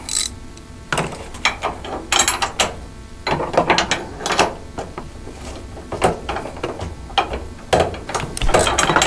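A ratchet wrench fitted with a short barrel socket clicks in quick bursts while loosening a bolt on a CF Moto U-Force 1000, close and clear with brief pauses between strokes.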